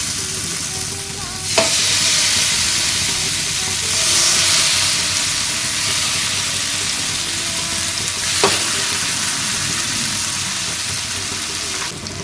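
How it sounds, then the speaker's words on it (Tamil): Chicken sizzles in a pan of hot oil over a high flame, a loud, steady hiss broken by a couple of brief clinks. "எண்ணெய் சூடானோன்னா நம்ம சிக்கனை அதில் வச்சிடலாம்."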